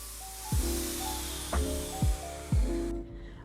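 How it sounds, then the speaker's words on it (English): Short bursts of brass aerosol spray paint hitting a metal door plate, about four quick hissing spritzes with small knocks, close up, followed by quiet. "I gave this door plate a little spritz with my brass spray paint"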